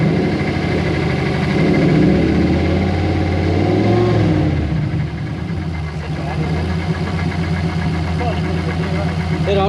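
A supercharged Toyota Hilux with a swapped 1UZ V8 and a big T88 turbo idles with a steady, loud, rumbling throb and slight pulsing, while people talk nearby over it.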